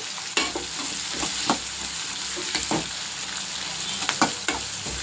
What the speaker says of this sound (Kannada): ಎರಡು ಈರುಳ್ಳಿ ಹಾಕ್ತೀನಿ ಸಣ್ಣ ಕಟ್ ಮಾಡಿರೋದು